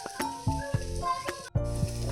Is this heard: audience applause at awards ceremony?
no